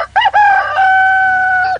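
A fighting rooster crows loudly and close by, a short opening call followed by one long sustained, strained cock-a-doodle-doo that holds steady before cutting off.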